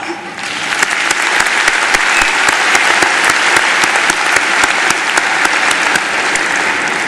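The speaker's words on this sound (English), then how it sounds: "Let's applaud." A large audience applauds at a high school graduation ceremony, a dense, loud, sustained wash of clapping that swells in and keeps going evenly to the end.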